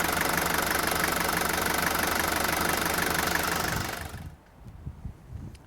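An old Mercedes diesel engine runs loud and steady with a heavy, clattering drone, then abruptly drops away near the end, leaving only faint knocks.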